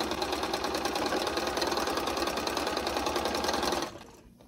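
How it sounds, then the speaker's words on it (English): A sewing machine runs steadily, stitching curved quilt pieces for a Double Wedding Ring quilt, with a fast even motor whir that holds for nearly four seconds and then stops abruptly. "so I'm just gonna go ahead and sew it."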